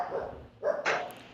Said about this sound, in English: Sorry, my dog's in the studio.